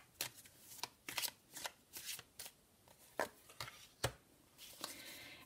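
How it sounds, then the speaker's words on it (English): Repeated riffle-and-bridge bursts of a card deck being shuffled, close and crisp, each lasting under a second in an uneven rhythm with no talking. "I'm just going to go ahead and shuffle the cards"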